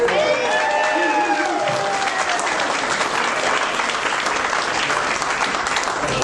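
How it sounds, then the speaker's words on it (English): Loud, sustained applause from a large crowd fills the whole stretch, with music tones and a few shouts fading early on. "Warm round of applause for Curtis right over there"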